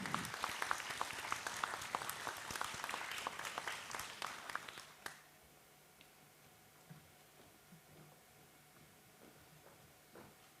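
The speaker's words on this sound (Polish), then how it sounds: "Gratulujemy, duże brawa." Audience applause at a regional brand award ceremony as a statuette is handed over: brisk, fairly loud clapping for about five seconds, then it stops abruptly, leaving a quiet room with faint scattered noises.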